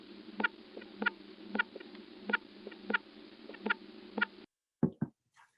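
Treehopper vibrational calls, sap-sucking true bugs signalling through plant stems, come across as a steady buzzing drone punctuated by regular sharp pulses about every half second, followed by a few separate clicks and thumps after a brief gap.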